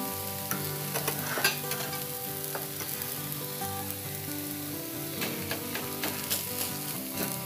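Ragi dosa cooking on a pan with oil, chopped onions and green chillies, a loud, constant close sizzle with crackling pops and a few spatula scrapes throughout.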